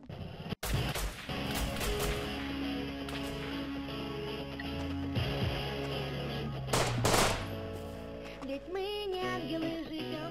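Gunfire from the video game Rust during a 12 vs 12 fight, with rapid automatic bursts and single shots crackling loudly and almost continuously over a dense layer of game noise, with a sharp crack near the start.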